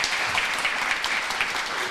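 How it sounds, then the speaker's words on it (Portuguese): An audience at a GraphQL with PHP tech talk claps for the presenter, a short burst of fairly soft, steady applause from the room. "Pessoal, então uma salva de palmas aqui para o Aleph."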